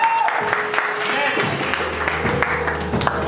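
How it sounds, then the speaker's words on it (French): A church congregation applauding loudly at a sermon on prayer, sustained clapping filling the room with a voice speaking over it. "Acclamons très fort."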